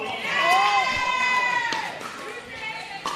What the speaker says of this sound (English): Crowd at Chicken and Pickle erupting.